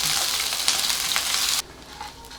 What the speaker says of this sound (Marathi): कांदा थोडा लालसर होईपर्यंत आपल्याला हे सगळं परतून घ्यायचं